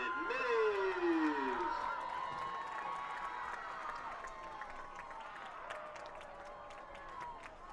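A home crowd cheers in the stands at a high school football game on senior night, a steady mass of voices with shouts and a sliding horn-like tone early, fairly distant and continuous.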